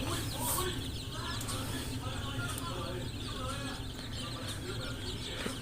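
Chickens on a farm, just given a combined Newcastle disease and infectious bronchitis vaccine, cluck softly and intermittently at low volume beneath a man's ongoing speech.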